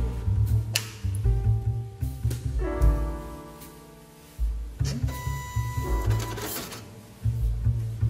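A dot matrix impact printer printing sealed payslips, loud buzzing head passes alternating in bursts with pauses and whirring paper feed, close and alone.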